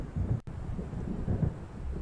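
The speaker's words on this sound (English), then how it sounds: "It seems there's a storm coming." Stormy ambience in the horror video game Alan Wake, a steady low rumble of wind and distant thunder over churning waves by a lake island, with a sudden brief dropout near the start.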